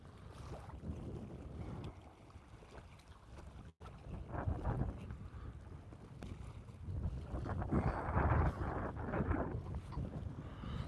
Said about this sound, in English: That wind's kicking up something fierce.